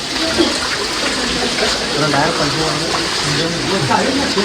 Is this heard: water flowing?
yes